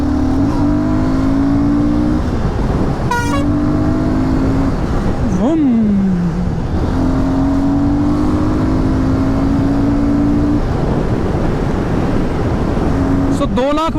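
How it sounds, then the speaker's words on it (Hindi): Army trucks with large tires roll past on the road one after another, their engines droning loudly and steadily, with horn-like tonal bursts and voices talking over the traffic. "सामने से आ रहे हैं आर्मी वाले ट्रक, देखिए"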